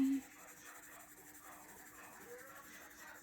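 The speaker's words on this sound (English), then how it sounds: "when you're using your color pencils" Soft, continuous scratchy rubbing of a colored pencil on paper, faint and close, with a short tone at the very start.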